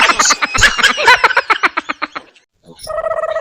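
A frog croaks in a fast, loud run of rattling pulses that slow and fade, then after a short gap a steadier tonal call follows, close and clear.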